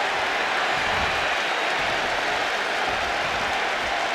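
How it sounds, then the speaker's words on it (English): A dense, steady roar of cheering from the crowd in a WWE 2K25 video game wrestling arena, broad and continuous throughout without a break. "A deafening cheer from the WWE Universe is reverberating around us."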